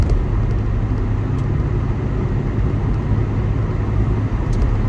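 A diesel car drives along, heard from inside as a loud, steady low rumble of engine and road noise that holds constant throughout, with no voices.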